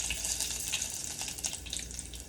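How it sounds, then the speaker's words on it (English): Garlic frying in oil in a home Jamaican kitchen, a steady bright sizzle and hiss that runs without pause, moderately loud and close, with no voices over it. "So what I do, I love to kind of fry out my garlic."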